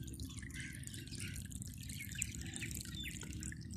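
Water from a pipe nearly fifty feet long, fed by a motor pump that runs all day, pours out in a steady, continuous splashing rush on farmland.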